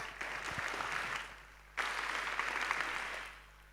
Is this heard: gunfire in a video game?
no